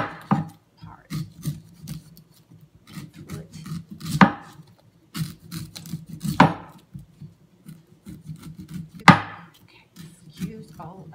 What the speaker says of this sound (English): we're just going to cut, and we're going to shave off the top part